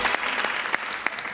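Studio audience applause on a Pakistani talk show, a short burst of steady clapping from a crowd with no talk over it, filling the clip evenly from start to finish.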